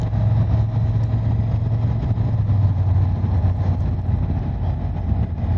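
A motorcycle rides along a road in Romania on a long-distance trip toward Poland, its steady engine drone running unbroken and close for the whole stretch, with no talk over it.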